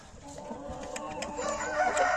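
Rooster crowing with chickens clucking on a hobby poultry farm, several bursts repeating close by over a steady flock murmur.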